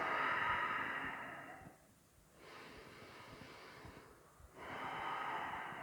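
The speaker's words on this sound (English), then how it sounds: "And big breath." Deep, loud breaths drawn and released during an evening yoga flow, each a long airy rush. Two brief quiet gaps separate them, and no one speaks.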